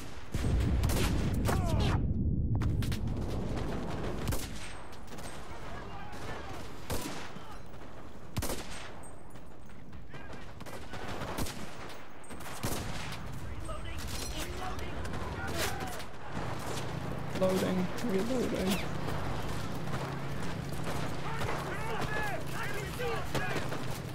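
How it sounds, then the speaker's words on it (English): Gunfire at a spawn bunker in Enlisted, a long run of sharp shots and rapid bursts with booms scattered over some twenty seconds, loud and near, with players talking over it. "I'm just shooting at the spawn bunker."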